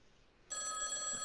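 A phone rings inside a video game, a bright repeating electronic ring that starts abruptly after near silence and stays steady and clear to the end.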